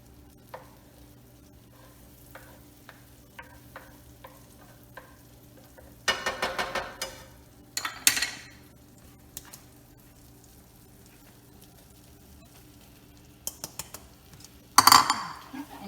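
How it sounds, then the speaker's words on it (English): A whisk works flour into melted butter in a pan for a béchamel roux, making short bursts of rapid metallic scraping close up, separated by long quiet stretches with faint sizzling and small clinks. "And you're going to whisk it around in there to integrate the butter and the flour."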